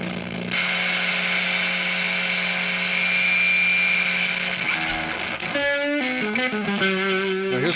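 Electric guitar played through a Tomsline Mario lo-fi pedal, a sustained distorted, fuzzy chord drone ringing steadily and loud, then shifting into a run of bending, stepping notes near the end, with no talking.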